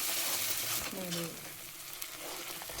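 Ground tomato paste fries in a pan for a capsicum paneer chicken masala, a quiet soft sizzle with stirring scrapes, a brief voice breaking in partway.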